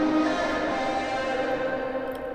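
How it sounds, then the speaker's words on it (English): A vocal processed with telephone EQ, Camel Crusher distortion, sample delay and short reverb, sounding thin, gritty and sustained with a faint echoing tail, alone without talk. "When you throw the telephone EQ, Camel Crusher, sample delay, and the short reverb in that order"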